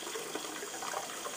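Tap water runs steadily into a bath for a bubble bar, a soft, even splashing hiss lasting about a second and a half.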